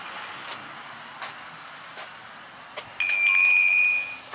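A phone notification from a Nooie smart WiFi video doorbell chimes late in the clip, a clear sustained tone after several soft taps and shuffles, close by with no talk.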